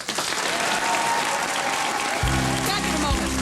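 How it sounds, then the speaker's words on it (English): A studio audience gives a sustained wash of loud applause for Dr. Phil in a comedy sketch show setting, and a voice speaks over the clapping near the end. "please give a warm round of applause for Dr. Phil"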